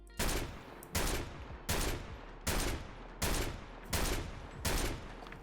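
Seven suppressed shots from a Barrett .50 caliber rifle in Fallout 4, evenly spaced about once every 0.7 seconds, each a sharp muffled crack with a short decaying tail, loud and close with no voices.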